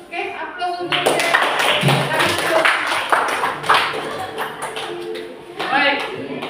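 Applause from a class for a singer during an Indonesian teacher-training session, a dense, steady clapping that lasts several seconds with voices talking over it.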